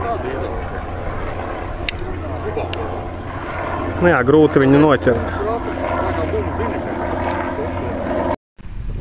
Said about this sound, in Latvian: Šitais helikopters, kas šodien patrolē